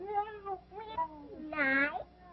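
Three drawn-out meows in a row, close by, each rising and falling in pitch, with the last one the loudest and highest.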